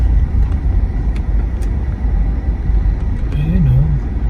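Road traffic crawling in a jam on a drive from Rainier Beach to Seattle's Pier 91, a continuous low rumble of idling and creeping cars heard from inside a vehicle, with faint talk and a brief tonal chirp near the end.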